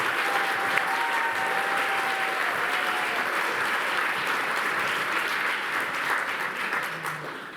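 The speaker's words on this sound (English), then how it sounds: "another round of applause for the students and for the hope that they represent for the future of science" Sustained audience applause at an awards ceremony for students in science, a dense steady clapping that holds at full strength for several seconds and then tapers slightly at the end, with no talk over it.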